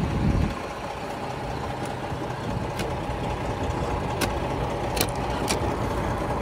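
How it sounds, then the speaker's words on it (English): An old work truck engine idles in a steady, even rumble close by, with a few sharp clicks and ticks breaking through the drone. "She's just an old work truck."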